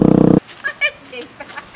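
A dog lets out one short, loud, rough bark at the start, followed by faint, brief sounds and muffled voices.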